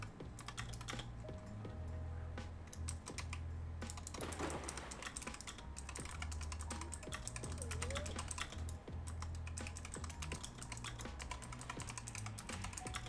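Steady computer keyboard typing runs throughout at close range with a continuous stream of key clicks, over a low background hum and with no talking.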